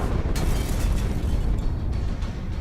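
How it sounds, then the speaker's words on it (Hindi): A bomb blast near the Opera House: a loud, sustained low roar and rumble with a sharper burst early on, filling the whole stretch with no voices. "हुआ भयानक धमाका"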